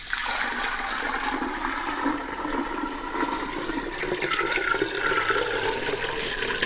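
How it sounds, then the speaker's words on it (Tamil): Water pours steadily and splashes continuously into a clay pot, a close, rushing flow that keeps going without a break. "தண்ணி எடுத்துகிட்டு இந்த பானையில் அடியில் இருக்க ஓட்டை நிரம்புற அளவுக்கு தண்ணி ஊற்றிடுங்க"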